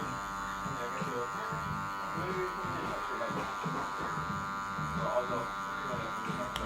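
Electric hair clippers buzz steadily throughout, held close, while cutting bulk using the clipper-over-comb technique during a combed-back haircut with middle part; a voice talks faintly underneath.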